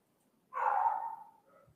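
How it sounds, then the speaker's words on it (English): A single dog bark, distant and muffled as if from another room, cuts through an otherwise quiet room and trails off briefly. "Can you hear my dog in the background?"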